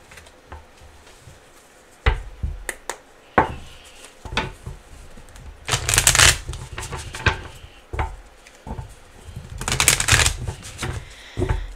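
Tarot cards shuffled in a reading, with irregular riffles and bursts of slapping card noise, two louder riffle bursts midway and near the end, close and clear with no talk.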